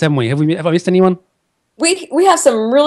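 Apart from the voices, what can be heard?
No everyday noises stand out.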